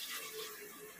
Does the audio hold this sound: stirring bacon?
no